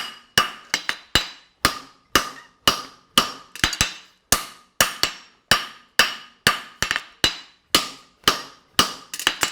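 Steady hammer blows ring on a steel anvil while a horseshoe is forged, about two strikes per second, with some quick doubled bounces, loud, close and alone with no talk.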